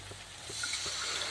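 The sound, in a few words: water poured into cooking gravy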